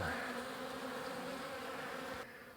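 A dense, steady buzz of many honeybees taking bee bread from hive frames hums close by at a faint level. It drops off abruptly near the end, and there is no talk.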